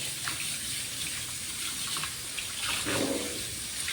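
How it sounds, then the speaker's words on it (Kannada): Long beans (cowpeas) are rinsed under running tap water, a steady close gush and splash of water falling into a sink without pause, with no voices. "ಒಂದೊಂದೊಂದೊಂದೊಂದೊಂದಾಗಿ ತೊಳಿಬೇಕು ನೋಡಿ"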